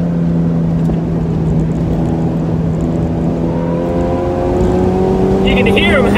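Car tires howling and squealing on a racetrack as a car corners with no grip, a loud continuous engine drone with tonal whine under it and rising harmonic squeals toward the end.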